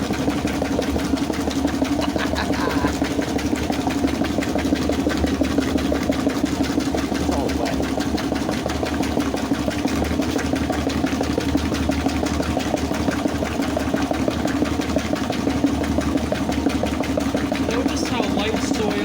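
A Frigidaire Rollermatic washing machine running its rinse cycle with a heavy load, giving a steady mechanical hum and rapid rhythmic chugging, continuous and close, with faint talk underneath.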